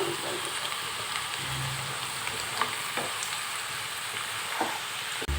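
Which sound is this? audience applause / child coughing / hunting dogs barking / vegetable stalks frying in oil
vegetable stalks frying in oil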